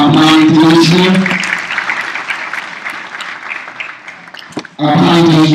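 An audience applauds at the opening ceremony of a Model UN conference in Tanzania. The clapping swells between bursts of someone speaking, then tapers off before his voice returns.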